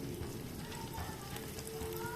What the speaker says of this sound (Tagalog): kaya ipiprito ko na rin.